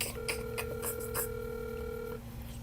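A telephone call being dialed: a rapid run of short keypad tones beeping in quick succession over a steady held tone, clear and close, with no voices.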